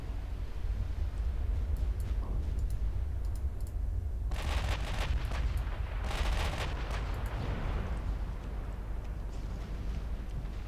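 Naval gunfire from battleships in the game Ultimate Admiral: Dreadnoughts, with repeated loud booming salvos and crackling impacts, strongest in bursts midway through over a constant low rumble of battle ambience.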